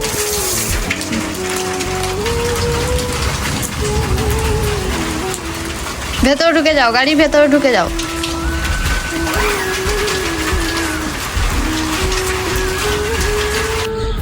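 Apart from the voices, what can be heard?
rain falling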